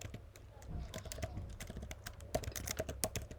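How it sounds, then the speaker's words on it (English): Gentle typing on a laptop keyboard, quick irregular clicks and taps of keys at close range with no talking. "I'm trying to be very gentle on how I type because I know it can get very loud."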